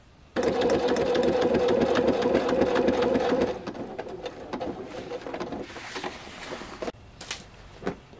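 A sewing machine runs steadily for a few seconds, stitching a leather jacket with long 3.5 mm stitches, a close, even whirring buzz that then stops, leaving softer handling clatter.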